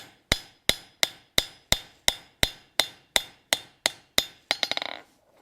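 A hammer strikes cold copper while the edge of a spatula is forged, ringing metallic blows at an even pace, about a dozen in all, then a fast bouncing flurry of taps that fades out.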